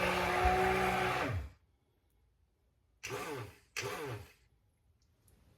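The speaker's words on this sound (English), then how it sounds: "now I'm just going to use the immersion blender on it" An immersion blender whirs in a pot of cooked fall soup, running for a moment and then stopping, then giving two more short pulses separated by silence.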